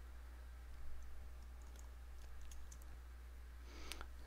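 Computer clicks while working in security analysis software, several light, sharp clicks scattered through a quiet room over a low steady electrical hum, with no talk.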